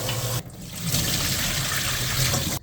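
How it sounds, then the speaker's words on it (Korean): Seasoned red pepper leaves rinsed in a basin of water, a steady close sloshing and trickling that runs for about two seconds after a brief pause. "한 두 번 헹궈주세요."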